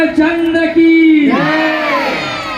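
At a Shri Ram Katha gathering in the Sangatji temple in Shahganj, Jaunpur, a crowd shouts a devotional victory chant: one strong, sustained voice leads, then many voices answer in a loud, overlapping roar.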